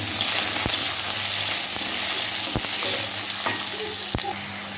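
Potatoes frying in oil in a pan, seasoned with black cumin and whole cumin, giving a steady, dense sizzle with a few sharp clicks of a utensil against the pan, close up, with no voices.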